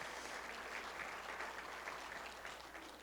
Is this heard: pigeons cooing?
no